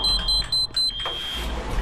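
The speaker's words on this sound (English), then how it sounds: "Oh, it's another beeping." Electronic beeping in the co-op horror game Backrooms Escape Together: a series of short, high-pitched beeps repeating in a quick, regular rhythm, then a single longer tone over a low background hum.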